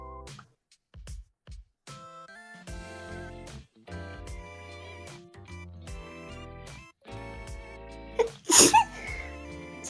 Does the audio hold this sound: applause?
no